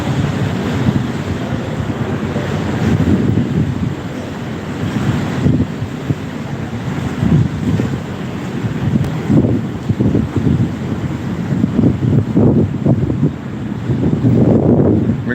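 Steady wind buffeting the microphone beside the Pasig River in Manila, low rumble, broad rushing noise and faint lapping water underneath, loud and continuous throughout.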